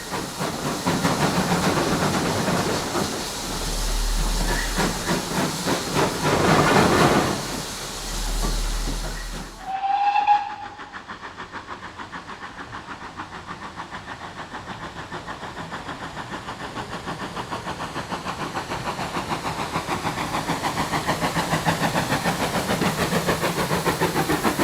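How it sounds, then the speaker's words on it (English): A GWR steam locomotive running light in a tunnel spins its wheels on very wet rails, loud hissing and rapid chuffing bursts filling the first half before the sound drops to a steady, quieter rumble and hiss. "And sure enough, the G.W.R is soon spinning her wheels, with Sam Hall juggling the regulator"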